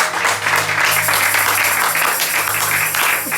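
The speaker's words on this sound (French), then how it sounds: "Acclame le Seigneur pour le texte." A church congregation bursts into loud, sustained applause praising the Lord during a service, a dense wash of many hands clapping close by.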